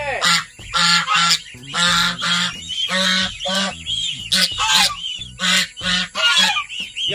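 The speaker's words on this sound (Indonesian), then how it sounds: "nampak anak-anak angsa ni dia keluar daripada kawasan mak dia tu" Geese and their goslings honking in a repeated series of loud, close calls, one after another, with short gaps between them and no talk over them.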